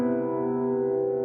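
One sustained piano chord with an added third and no fifth, held steadily for about a second, warm and mid-range, fading very little, with no talking.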